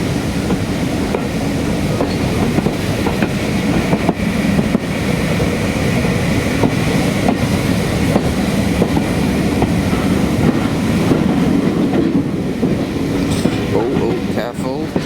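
A Spa Valley Railway heritage train rumbles along the track near Groombridge at restricted speed, with continuous close clickety-clack and wheel noise throughout.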